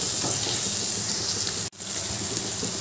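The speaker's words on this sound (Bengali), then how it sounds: "এবার সব মশলাগুলো ভালো করে কষিয়ে নেব। যতক্ষণ না তেল ছাড়ছে মশলাটা কষাতে থাকবো।" Spice masala cooking down in oil in a pan, giving a continuous close sizzle and hiss that cuts out abruptly for a moment near the end before resuming.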